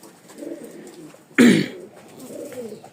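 A single short pigeon coo rises sharply from a quiet background in a loft of Rajshahi Giribaz pigeons, close and brief, with faint low murmurs around it.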